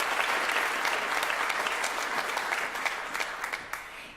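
Sustained applause from a large audience at a staff awards ceremony, a dense, even wash of clapping that holds steady and begins thinning toward the end, with no voices over it.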